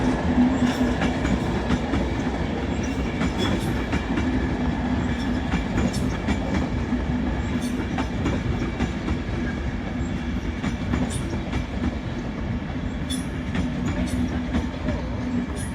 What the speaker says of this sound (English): Also down there is a LNER Zuma working a service from Leeds to London King's Cross.